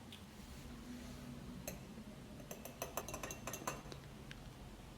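A fork or whisk clinks quickly against a bowl while egg wash is beaten for bread, quiet at first, then a burst of light metallic taps near the end, with no talk.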